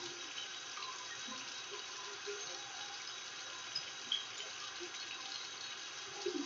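Hands rinsed under a running tap at a sink during first-aid handwashing, a steady, even hiss of flowing water filling the whole stretch with a few small splashes near the end.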